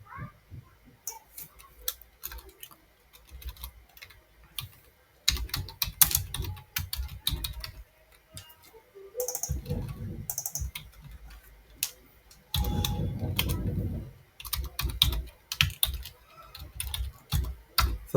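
An SQL query typed on a computer keyboard, with steady close key clicks in uneven bursts and some louder heavier strikes, probably spacebar or enter, and no talking.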